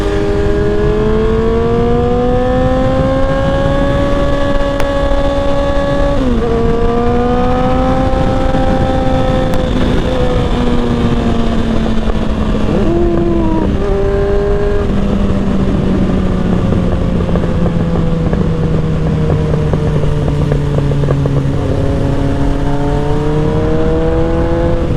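A Kawasaki Ninja 600 motorcycle engine revs loudly and up close, climbing and dropping in pitch through several long sweeps, holding high revs between blips.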